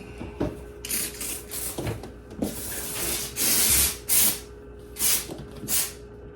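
A McCulloch steam cleaner hisses while cleaning a refrigerator, giving a series of sharp, close steam bursts of varying length with short pauses between them.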